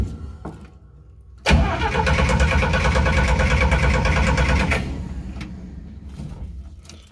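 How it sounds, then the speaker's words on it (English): A car engine cranks with the choke pulled and catches briefly, a loud sudden burst of rough, pulsing engine noise that runs for a few seconds and then fades back down to quiet. "I thought the choke usually got it to start right up."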